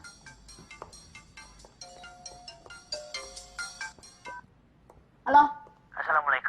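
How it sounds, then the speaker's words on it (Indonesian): A telephone rings with a ringtone melody of short repeated tones, loud and close, in a dramatic Indonesian film scene; it stops and brief voices follow near the end. "Telepon lagi."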